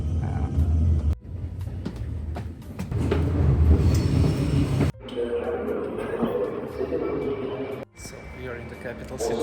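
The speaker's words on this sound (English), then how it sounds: "So we are in the train station, main train station in Bratislava" Busy, echoing ambience in the main train station in Bratislava: a rumbling train and machinery, clattering, and a murmur of voices, with brief drops in the din.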